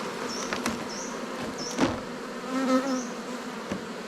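Bees buzz in a hive: a soft, continuous drone with individual insects flying close past, fairly quiet and with no voices.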